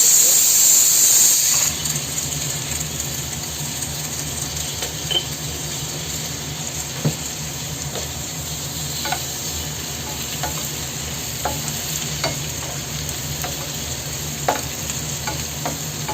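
Onions and garlic frying in oil for a chicken curry, giving a steady close sizzle with scattered clinks and scrapes of a spoon stirring the pan, mostly alone with little talk.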